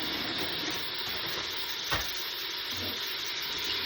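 Frozen minced beef from the butcher sizzles in a Cookeo multicooker pot, a steady close hiss of frying with a brief clunk of stirring partway through, no talking.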